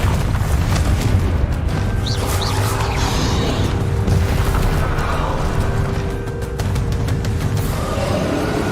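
Confringo spell blast in the Hogwarts Legacy video game amid ongoing combat, a sustained, loud low-frequency roar and crackle with faint whistling and tonal game effects layered over it for several seconds.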